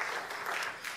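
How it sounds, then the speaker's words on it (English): A brief burst of audience clapping at a city council candidates' forum in Vallejo, a soft, even patter of hands heard at a moderate distance. "Yes, you can clap."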